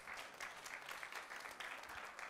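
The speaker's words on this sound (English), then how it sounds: "give God a hand clap" A church congregation claps hands during a sermon, a steady patter of many hands with a loose rhythmic pulse, moderately loud throughout the short burst.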